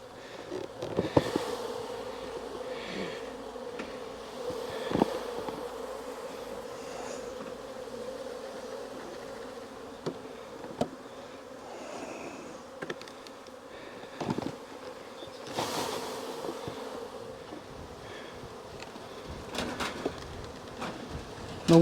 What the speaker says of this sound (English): I'm going to scoop up some bees and dump in each one of these 2-frame mating boxes